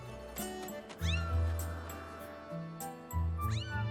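A cat meows repeatedly in Zelda Skyward Sword, several rising, plaintive calls spaced across a few seconds over soft background game music, fairly close and clear.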